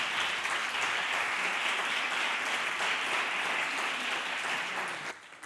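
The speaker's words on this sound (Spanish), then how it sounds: "Un aplauso." Sustained audience applause at the 3MT Castilla y León 2025 final at the University of Salamanca, a steady, full roar of clapping from a large crowd that fades away at the end.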